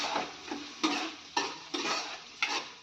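A cooking mixture with turmeric and salt is stirred in a pan, producing rhythmic scraping strokes roughly every half second over a light sizzle, close and clear with no speech.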